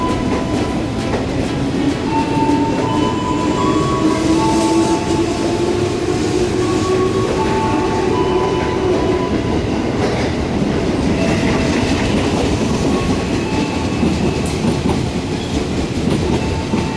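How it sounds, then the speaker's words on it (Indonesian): A KRL commuter train pulls into a Jakarta station bound for Tanah Abang, with a loud, continuous rumble, wheel clatter and faint squeals throughout, close by and with no talking. "akhirnya KRL menuju Tanah Abang kembali datang"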